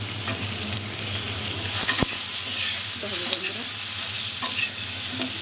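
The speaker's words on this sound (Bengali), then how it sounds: "এর মধ্যে আলু ভাজা হয়ে গেছে" Potatoes frying in a pan as a steady sizzle that carries on throughout, with a sharp knock and scraping stirring sounds along the way.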